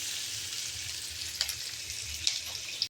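Vegetables with turmeric fry in oil in a pan for puri, a soft continuous sizzle with a few light taps of a spoon against the pan.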